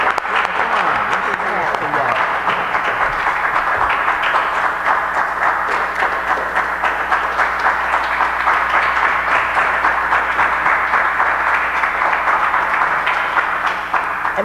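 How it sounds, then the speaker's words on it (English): Sustained audience applause fills a meeting hall after a community speaker finishes, dense and steady throughout, with voices and cheers mixed into the crowd noise. "Let me clap, y'all."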